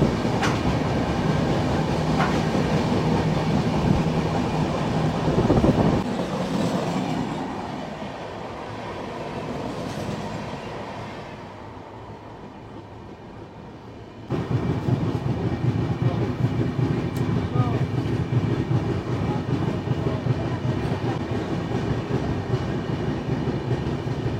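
Howrah–Barbil Jan Shatabdi Express running with steady loud rail rumble and clatter, easing quieter midway before the full rolling roar returns, no voices.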